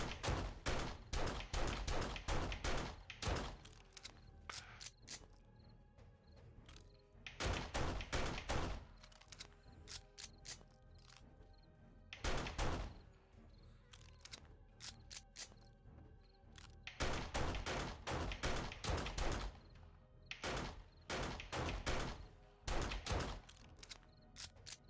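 Bursts of rapid gunfire cut down zombies during a blood moon in the video game 7 Days to Die, loud volleys of shots separated by short quieter gaps, with no talking.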